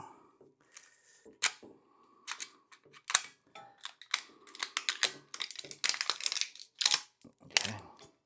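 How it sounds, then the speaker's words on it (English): Plastic packaging being opened on a helium balloon tank: irregular close clicks, snaps and crinkles in uneven bursts, louder toward the end, with no talk. "I'm going to have to take off the plastic here and open this up"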